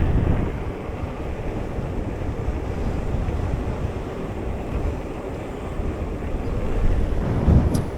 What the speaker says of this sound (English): that wind's a right head on wind, you know.